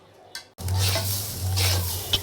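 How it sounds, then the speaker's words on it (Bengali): After a brief quiet moment, a loud sizzle bursts up as turmeric powder and ginger-garlic paste hit hot oil, then keeps crackling steadily close by. "ভালো করে ভেজে নিচ্ছি।"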